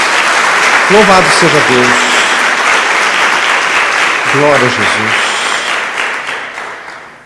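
A church congregation claps steadily throughout a sermon while a voice speaks over it; the applause fades toward the end.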